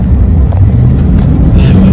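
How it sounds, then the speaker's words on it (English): The Turbo V8 of a Bentley Brooklands rumbles steadily while driving down the Mall in London, a loud, close, low drone without talk. "Listen to that V8 there."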